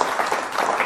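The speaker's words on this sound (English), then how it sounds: "let's give Eric a round of applause" A short burst of audience applause for a guest named Eric, a dense mass of clapping hands that stays loud and even for under a second.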